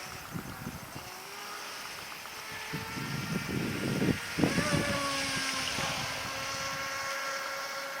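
A 26-inch Diggerwasp mono RC boat runs on water, its small motor a thin, fluctuating whine that rises in pitch as it passes, with gusty wind noise and splashy bursts, fairly faint and distant.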